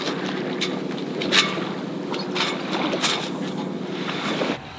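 A sailboat under sail on the Atlantic Ocean with its motor shut off, with steady rushing wind across the microphone and water washing past the hull, plus occasional louder gusts and splashes.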